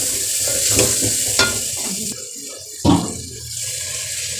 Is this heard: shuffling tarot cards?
no